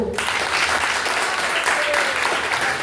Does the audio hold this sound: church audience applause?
yes